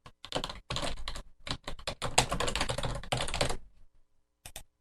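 Rapid clicking keystrokes on a computer keyboard, close and crisp in bursts with short pauses and a final brief flurry, no talking.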